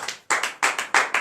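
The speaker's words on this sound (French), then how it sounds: "Donnez l'acclamation à notre Seigneur Jésus." Congregation at a morning prayer service in Benin clapping hands in bursts, four or five sharp, loud groups of claps with brief gaps between them, no talking.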